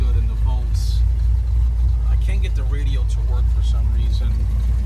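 A 1957 Chevrolet Bel Air engine idles after a cold start, a steady low rumble close by that sits under someone talking throughout.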